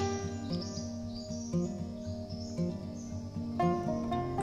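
Birds calling from high in a tree on a hillside: thin, repeated chirps and tweets drift down from a distance, faint and intermittent over a steady tonal background.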